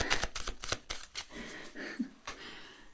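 Rapid, crisp riffling of playing cards sounds close by in quick bursts, followed by a few softer taps and flicks.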